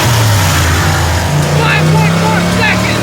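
A fourth-generation Chevrolet Camaro with an LT1 V8 accelerates, its close, steady exhaust note climbing slightly in pitch beneath a speaking voice.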